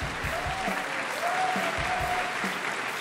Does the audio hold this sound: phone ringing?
no